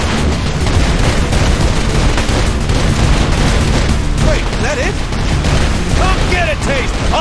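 Dense, continuous gunfire fills a chaotic fight in the Saints Row IV video game, with rapid overlapping shots and booms throughout, loud and close. Speech and other voices come through in the mix.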